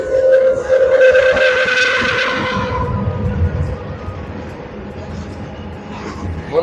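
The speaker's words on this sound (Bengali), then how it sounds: "তাই বন্ধুরা দেখতে পাচ্ছ ট্রেন একটা ঢুকে গেছে।" A goods train pulls into a railway station, opening with a loud, sustained squealing tone for a couple of seconds before settling into a steady rumble, with voices underneath.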